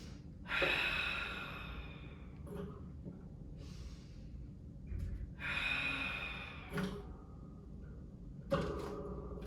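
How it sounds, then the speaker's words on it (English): Deep breaths in a Pilates breathing exercise, heard as long, airy inhales and exhales close to the listener, repeating in a slow rhythm with brief pauses and no talking. "So I'm going to start with that inhale."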